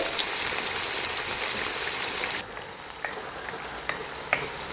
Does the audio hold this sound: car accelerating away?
no